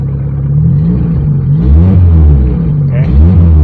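A Suzuki Forsa car fitted with a motorcycle CDI ignition in place of points, its engine idling steadily with a low, even rumble, loud and close, with the lights switched on.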